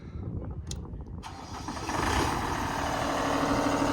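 Boom lift engine starting from the basket, a short crank catching into a steady mid-pitched running drone that grows louder and holds, no talking.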